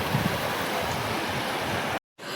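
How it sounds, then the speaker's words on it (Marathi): Steady rushing of a fast-flowing river, loud and continuous, fills the clip before cutting out abruptly near the end and then resuming. "पाण्याला स्पीड बघा किती जास्त आहे."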